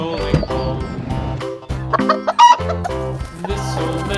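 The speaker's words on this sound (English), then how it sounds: "Hen." Hen clucking and squawking among farm animal sounds over a playful music backing, a run of short clucks and cackles rising to a loud squawk, close and clear.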